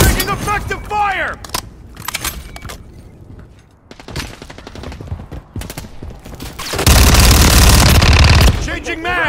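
Bursts of submachine gun fire from a Fennec 45 in Call of Duty MW3 multiplayer Domination on the Highrise map, loud and close. Sporadic shots are followed by a sustained heavy burst near the end, with game voices heard in between.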